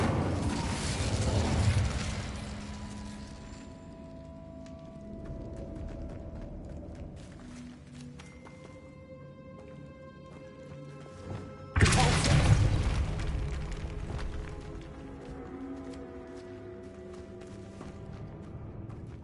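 Incendio fire spell bursts in Hogwarts Legacy land as heavy booming whooshes, one at the start and another sharp blast midway, each trailing into crackling rumble, with quieter magical tones and effects between.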